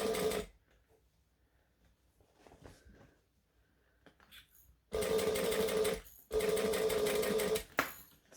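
A sewing machine top-stitches around a bag, running in two loud, close bursts of a few seconds each after a quiet stretch with faint handling sounds.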